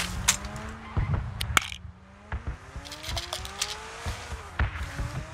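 Car engine in PUBG, loud but slow, droning steadily with rising and falling pitch as it accelerates, broken by clicks and bumps, with no talking in between.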